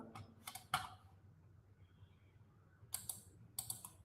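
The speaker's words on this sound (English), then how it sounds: "I'm typing. I'm typing for to explain this." Someone types on a computer keyboard while writing a Python program, with short bursts of close, crisp key clicks separated by a quiet pause in the middle.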